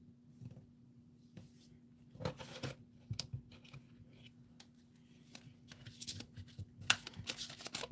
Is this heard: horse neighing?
no